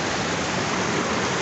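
Steady broadband roar of the Cachoeira do Nilo waterfall at Bom Jesus do Pirapitinga, water rushing loudly and continuously with no voices over it.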